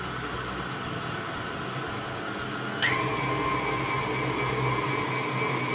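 An electric mixer whirs through flour and egg for Easter nest cupcake batter, a steady motor drone that jumps to a higher, louder pitch partway through and keeps running evenly.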